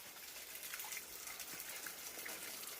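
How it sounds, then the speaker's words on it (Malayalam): A soft, continuous rush of falling water, fairly distant and even, with no voices. "ഇതാണ് കേട്ടോ നമ്മുടെ സ്ഥലത്തുള്ള വെള്ളച്ചാട്ടം."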